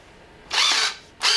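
A power drill whirs in two short bursts, the first about half a second long, then a brief pause before it spins up again, close by, driving a screw while re-crowning an airgun barrel.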